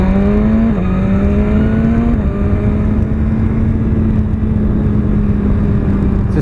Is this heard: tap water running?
no